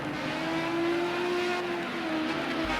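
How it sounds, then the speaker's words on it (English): A Porsche race car engine in Project Cars 2 drones steadily and loudly throughout, a sustained whining tone with slight pitch swells as the car struggles for grip and traction on the Raupuna circuit in a Group 5 race. "Still circulating in the Porsche, but struggling a little bit with grip and traction"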